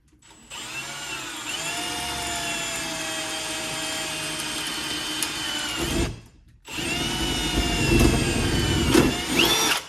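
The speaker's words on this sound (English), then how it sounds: "if you've got any stainless steel to drill on your weenie wagon" A power drill whines steadily through stainless steel on a hot dog cart for several seconds, stops briefly, then bites in again with a higher, straining grind.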